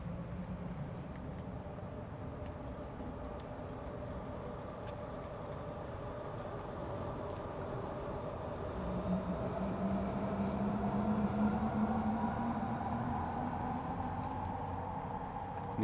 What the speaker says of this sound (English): even though it's Sunday and the trains are going nuts for some reason